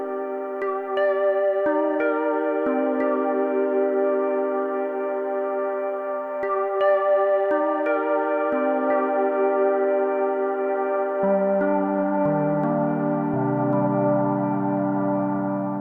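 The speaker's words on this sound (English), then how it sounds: "Really strange, ethereal sort of reverb, a bit like a spring reverb." Synth tones run through an Erica Synths Razornator resonator, ringing out as sustained, metallic harmonic chords with a strange, ethereal spring-like reverb. The pitches shift in slow steps and sink lower toward the end.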